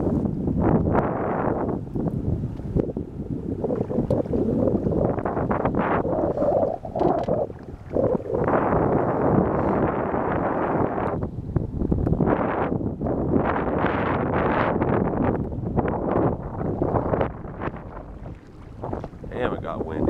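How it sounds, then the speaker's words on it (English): Strong, steady wind buffets the microphone in a continuous rumbling roar, with gusts swelling and easing over the whole stretch, water faintly audible beneath. "Damn, it got windy all of a sudden."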